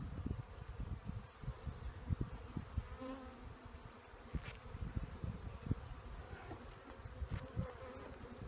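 Honey bees hum steadily around an open nuc hive frame, a dense close buzzing with faint rustles and bumps of handling.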